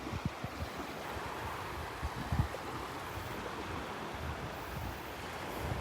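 Morning ocean surf washes steadily onto the beach at Delnor-Wiggins in North Naples, with a constant broad rush, soft wind buffeting and a few low thumps.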